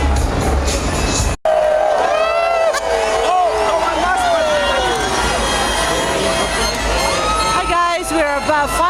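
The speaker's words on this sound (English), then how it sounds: "on this side, of course, you've got the crowds in front of Bellagio" New Year's Eve crowd in front of the Bellagio on the Las Vegas Strip, a dense roar of cheering and babbling voices with scattered shouts and whistles, sustained and loud after a brief cut.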